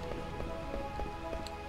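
Steady rain falls in Burmecia in Final Fantasy IX, a faint, even patter of drops with soft rhythmic taps under a low musical hum.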